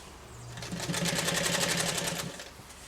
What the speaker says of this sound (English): this is just sewing these two pieces of fabric material together